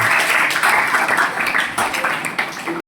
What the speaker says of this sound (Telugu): బిగ్ క్లాప్ బాగా కొట్టాలి.